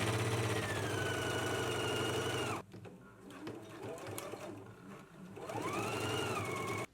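Sewing machine stitching the underarm seams of a garment, loud steady motor whir for a few seconds, a brief quieter gap with handling, then another fast run that cuts off abruptly.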